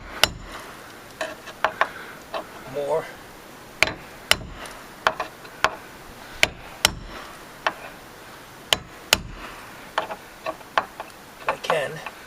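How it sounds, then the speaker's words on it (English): A hammer bangs nails down on a wooden deck rail during repair, giving sharp, loud knocks in irregular bursts, some single strikes and some quick pairs, with a brief spoken word among them. "I got to bang these nails down"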